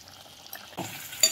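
Strained water from whole coriander paste poured into a pan of dhaniya chicken, a brief close splash and sizzle that rises sharply midway and flares again near the end.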